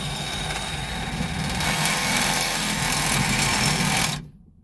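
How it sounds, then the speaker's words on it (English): A Sawzall reciprocating saw cuts through a metal stud while making exhaust manifold studs for a 1968 Ford Thunderbird. It gives a loud, steady, close-up buzzing rasp that continues unbroken for about four seconds, then cuts off abruptly. "decided we'll just use the Sawzall today"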